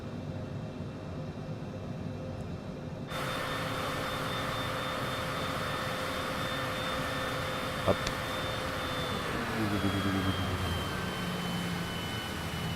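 Jet engine in the Microsoft Flight Simulator video game with a steady whining roar that steps up sharply early on and holds loud. Toward the end the tone shifts with a rising whine, and a brief spoken word breaks in.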